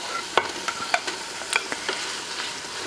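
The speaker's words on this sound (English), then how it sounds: "We'll mix all these ingredients together." Corn kernels and sausage are stirred together in an Instant Pot for butternut squash and wild rice soup, giving a scatter of quick scraping and clinking strokes, close and clear with no talk.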